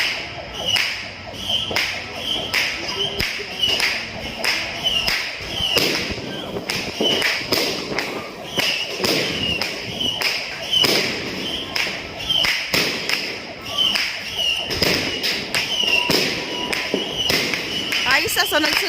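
A long run of firecrackers goes off in rapid succession, sharp cracks and pops packed densely throughout at fairly close range, with faint voices in the background.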